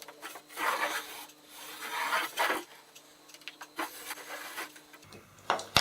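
Pencil scraping across a surface while drawing a circle guided by a Wolfcraft try square, heard as soft rubbing strokes in several bursts with brief pauses, close and quiet, with a sharper scrape at the end.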